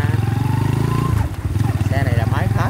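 A Honda 67 motorcycle engine idles steadily up close, a low rhythmic thrum that briefly dips and recovers, while someone talks over it throughout.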